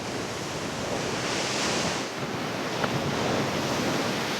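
Atlantic surf against tall cliffs near Nazaré, a continuous broad roar of waves with wind noise, steady and fairly loud with no voices.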